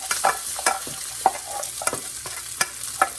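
Chicken fried rice, made with salted cooked rice, crackles in a T-Fal pot while a utensil scrapes and stirs it in quick, irregular strokes, close and fairly loud, with no voices.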